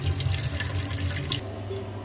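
Water pours and drains from freshly rinsed rice in a kitchen, a steady close splashing flow that cuts off abruptly partway through, leaving only a faint trickle.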